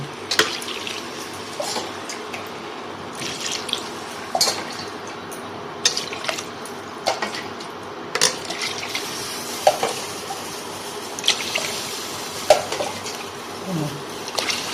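Water poured by the containerful into a cooking pot of rice and lentils for vegetarian khichuri, heard as intermittent light splashes and drips at moderate distance, with no talking.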